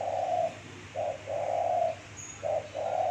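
A zebra dove cooing close by in a series of short, soft, trilling phrases separated by brief pauses, with no talking.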